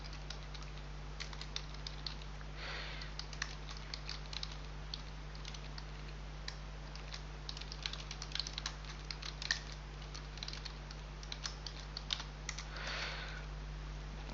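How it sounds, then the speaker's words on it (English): Lead details typed on a computer keyboard, a light, uneven patter of close key clicks running steadily for about fourteen seconds over a low electrical hum, with no talk. "So I'm going to type in the details here."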